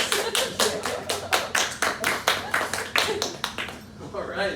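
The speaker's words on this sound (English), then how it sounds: "Let's hear a round of applause for Chris." An audience claps in a sustained round of applause for a volunteer at an anime-themed hypnosis show at a convention, dense rhythmic hand claps swelling and fading over a few seconds.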